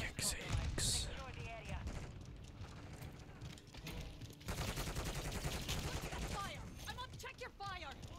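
Rapid gunfire in the video game Call of Duty, with bursts of automatic fire and shots layered under a player's voice talking over the game.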